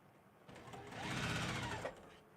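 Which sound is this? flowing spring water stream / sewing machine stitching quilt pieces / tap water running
sewing machine stitching quilt pieces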